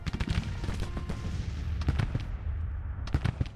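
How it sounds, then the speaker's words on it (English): Artillery battery firing in the Grand Tactician Civil War strategy game, irregular volleys of sharp cannon blasts, several close together and echoing into a low rumble, with a quieter lull before a final cluster of shots. "Order our battery to fire at will."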